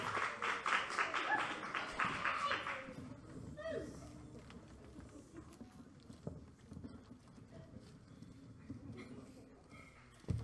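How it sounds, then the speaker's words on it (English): An audience at a youth poetry slam claps in a dense burst that fades after a few seconds, leaving a quieter room with scattered noises and talk. "Clap as Jackie comes to the microphone. Keep clapping."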